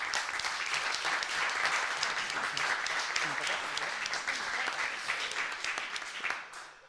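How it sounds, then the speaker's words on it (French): Municipal council audience applauding young competitors, a full round of brisk, continuous clapping from a room of people that holds steady before fading out at the end. "On peut les applaudir, je pense."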